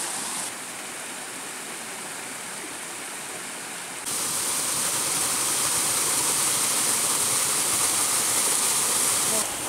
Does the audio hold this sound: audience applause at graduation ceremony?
no